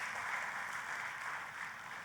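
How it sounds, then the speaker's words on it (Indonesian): Sustained congregation applause during a church service, a dense, even wash of clapping at moderate level with no talk. "Tepuk tangannya yang meriah buat Tuhan kita."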